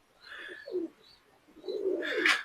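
Domestic pigeons of the Fırıncı Mahmut yellow line coo close by in soft, throaty, rolling calls, with a brief flutter or rustle near the end.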